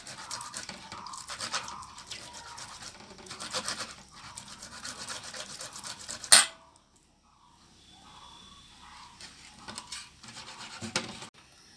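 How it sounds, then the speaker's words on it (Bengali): Ripe peeled mango scraped against a handheld grater into a pulp batter for Bengali-style mango fritters, a close, steady rasping rhythm that stops abruptly partway, then resumes softer and more sporadic. "এরকম একটা কুটুনির সাহায্যে আমি আমটার একটা বেটার বানিয়ে নিচ্ছি"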